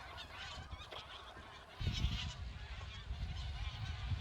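Wild geese or ducks calling in a flock over a rice field in rural Korea, a steady outdoor honking chorus at middle distance with a heavier burst of calls and wind rumble partway through.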